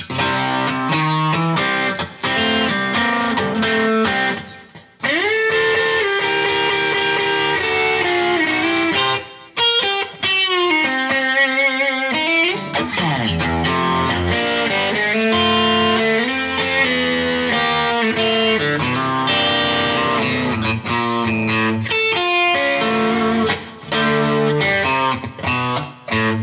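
Telecaster electric guitar played through both pickups with a little distortion, a continuous run of strummed chords and melodic lines that stays loud and sustained throughout, with a brief pause near the start and another midway.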